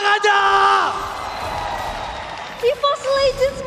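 An arena crowd at an MPL season 11 esports playoff match between RRQ and EVOS whoops and cheers loudly. Yells rise and fall, and shouted voices carry over the roar.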